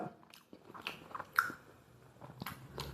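Someone bites into an egg puff pastry from Kochi and chews it close up, with soft crunching and squishy mouth sounds in small irregular bursts.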